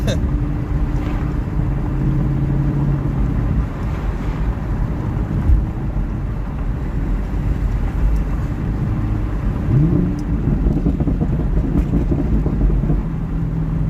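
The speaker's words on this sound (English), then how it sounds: "I just want to get a first gear pull, dude, to a second." A 2019 Camaro SS with a secondary cat delete rumbles loudly under steady road and wind noise, then its engine note sweeps upward as it pulls through the gears, with a voice talking over it.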